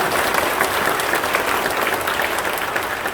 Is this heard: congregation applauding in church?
yes